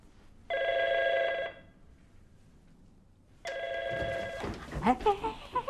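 A telephone bell rings in a domestic scene from a Shanghai family TV drama, with two loud, steady bursts of ringing separated by a short pause, and a second ring that runs under rising speech.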